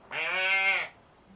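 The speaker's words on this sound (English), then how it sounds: "Oh, sheep are going crazy" A sheep lets out one loud, clear bleat close by, lasting just under a second, with nothing else audible around it.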